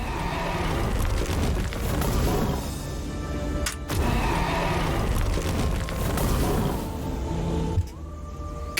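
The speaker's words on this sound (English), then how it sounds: "The dragon flies out of the ground. You see the fire coming out of its eyes, and then the fire from its mouth actually makes the portal." In the Last Epoch video game, a dragon bursts from the ground and breathes fire to open a portal, a loud, dense roaring rush with heavy booms that briefly cuts out and then resumes.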